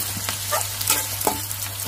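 Green chillies hitting a pan of onions frying over high heat, a close, loud sizzle with several sharp stirring scrapes and clatters.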